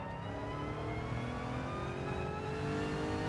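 Lexus Gr.2 race car engine at Monza in Gran Turismo 7, a steady loud high-revving drone with rising harmonic whine as it accelerates, continuous and alone.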